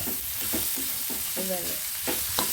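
Tempering for poha sizzles steadily in a pan while a spoon stirs it in repeated scraping strokes, close and continuous with no talking.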